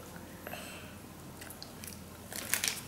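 Someone bites into a sweet treat during a real food versus gummy food challenge. A faint, quiet crunch builds into a soft crackling bite near the end, with no talking.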